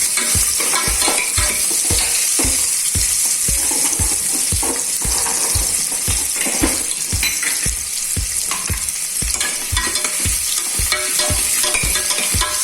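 Onions sizzle loudly in hot oil in a pan for mutton pepper thokku, with a steady close crackle and regular scraping strokes of a spatula stirring them throughout.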